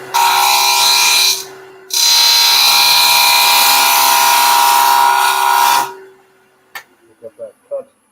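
A lathe gouge cuts face-grain wood in two long, loud, rasping passes separated by a short break, over a steady motor hum. A few soft knocks follow once the cutting stops.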